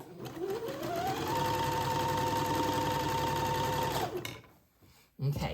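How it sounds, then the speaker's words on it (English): A sewing machine runs a zigzag stitch along a seam edge on an heirloom baby garment. It makes a steady, close mechanical whir for about four seconds, then stops, followed by a brief soft knock. "So zigzag the edge of the seam all the way around until you get to where you started."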